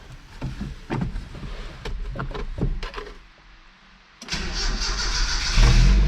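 A supercharged truck engine with a past fuel leak cranks through several rough starter bursts, goes quiet, then catches and settles into a loud, steady idle with a brief rev at the end.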